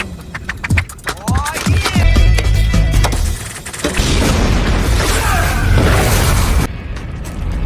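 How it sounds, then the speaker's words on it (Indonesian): Deep booming blasts and crackling bursts roll one after another in a dense, loud cinematic mix, with low rumble sustained throughout. "ledakan demi ledakan terlihat"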